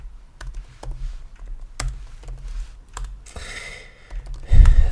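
JavaScript code being typed on a computer keyboard, close, crisp key clicks in short irregular bursts with a pause between them, then a louder thump at the end.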